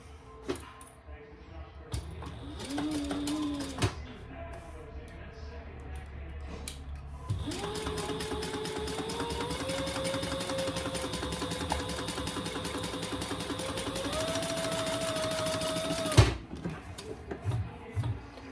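A sewing machine runs a long, steady stitching pass along a vinyl seam for a Horizon Sling bag, with brief stop-start bursts before it, and the motor pitch rising slightly as it goes.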